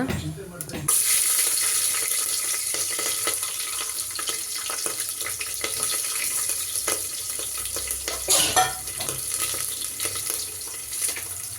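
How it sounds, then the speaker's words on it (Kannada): Onion, green chillies and coriander are fried in a pan for ghee rice, giving a steady hissing sizzle that runs throughout, with a brief louder flare near the end. "ಇದೆಲ್ಲನೂ ಹಾಕ್ಕೊಂಡು ಚೆನ್ನಾಗಿ ಫ್ರೈ ಮಾಡ್ಕೊಳ್ಳೋಣ"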